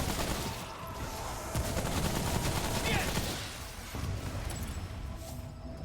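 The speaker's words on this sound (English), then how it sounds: "Oh, big dude! You gonna shoot that at me?" Enemy gunfire in the video game Remnant: From the Ashes rattles in dense, continuous bursts for several seconds, loud and busy, with a player speaking over parts of it.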